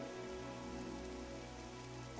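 A heavy downpour in the fighting game Granblue Fantasy: Versus, a dense, constant patter of rain on surfaces with faint sustained tones beneath.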